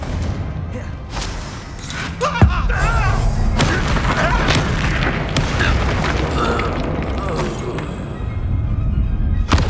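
Explosive spell blasts from Bombarda and Confringo in Hogwarts Legacy go off as a sharp boom followed by rumbling combat noise, with a voice shouting spell names over the continuous clamor.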